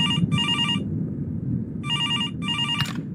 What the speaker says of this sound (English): so I was happy when the phone finally rang